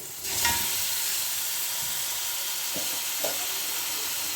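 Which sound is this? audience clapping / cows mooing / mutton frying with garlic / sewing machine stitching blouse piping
mutton frying with garlic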